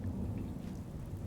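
Steady rain with low rumbling thunder in a Fallout 4 survival playthrough using the True Storms mod, a dense continuous downpour and heavy low roll throughout, no voices.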